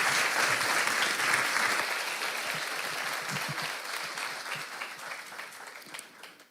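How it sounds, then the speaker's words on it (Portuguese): A crowd applauds with dense, steady clapping that slowly fades toward the end. "Bia, Cruzando História, uma salva de palmas, gente."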